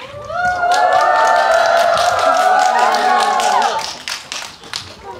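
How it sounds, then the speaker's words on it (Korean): A cinema audience greets actor Lin Yi at a stage appearance for the film One Week Friends with loud, sustained clapping and high cheering and whoops, swelling for about four seconds before tapering into scattered claps. "입장하실 때 큰 박수와 환호로 환영 부탁드립니다"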